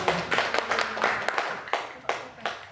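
A small group of teachers applauding for Pak Aris, with scattered, uneven claps from several people close by, thinning out toward the end.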